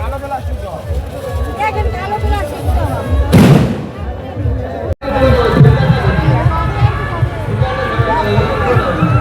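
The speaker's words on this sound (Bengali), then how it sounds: "এদিকে ওই আতশবাজি হচ্ছে" Fireworks at a large village fair (Radha-Krishna Goshtho mela) go off amid a noisy crowd, with a sharp burst near the middle over steady chatter and talking voices throughout.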